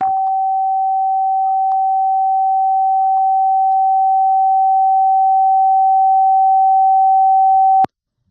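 A single steady pure tone sounds as a crown chakra frequency, holding one even pitch for about eight seconds before cutting off abruptly, with no talk over it.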